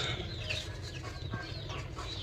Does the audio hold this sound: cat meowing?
no